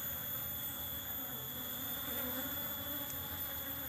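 Honey bees buzzing around a hive set up with flowers and fermented cassava tape as food, a continuous faint drone of many wings with a steady hum and no speech.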